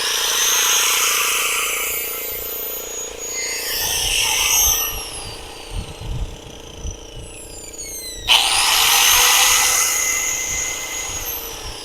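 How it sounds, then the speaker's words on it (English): An angle grinder and an air compressor run together off a portable power station, a loud continuous whine and drone with a short gap and restart partway through. "No problem running the grinder and the compressor at the same time."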